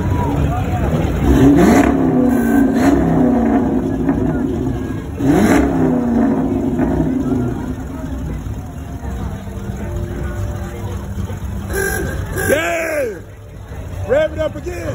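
A car engine revs up loudly several times in rising, swooping bursts, close by at a parade, with voices and crowd chatter around it.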